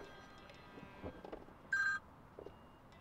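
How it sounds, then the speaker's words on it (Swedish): A mobile phone rings briefly with a single short electronic tone burst, faint and fairly close, amid quiet indoor background noise. "Nu ringer min telefon också."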